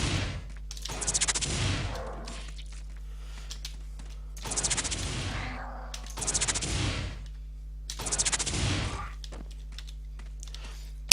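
Bursts of gunfire in the video game Legends of Might and Magic, several loud rattling volleys at regular intervals over a steady low background hum, with faint talk in between.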